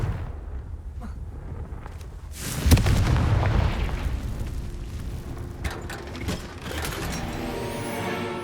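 A Confringo blasting spell in Hogwarts Legacy goes off as one loud, deep booming explosion, then rumbles and decays under rattling, mechanical game sounds.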